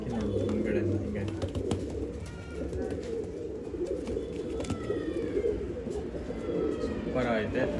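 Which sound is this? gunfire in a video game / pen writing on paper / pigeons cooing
pigeons cooing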